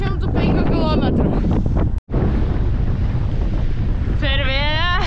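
Heavy wind in Iceland blasts across the mic in a constant, close roar with a momentary cutout, and a voice speaks through the noise.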